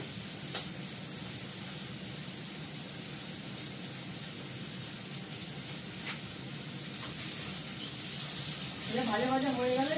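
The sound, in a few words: food sizzling while frying in a pan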